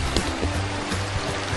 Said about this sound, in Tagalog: ito yung ilog naliliguan natin